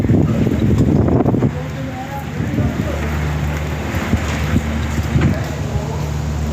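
Wind buffets the microphone over a steady wash of rain during a dust storm, with a person speaking and a low engine-like hum running underneath.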